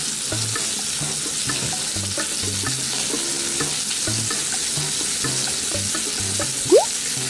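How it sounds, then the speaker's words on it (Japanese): Meat-based pizza crust sizzles and fries in a skillet, a steady close crackle with periodic scraping or stirring knocks and one brief clink near the end, with no talking. "キレットで焼く肉っていいね"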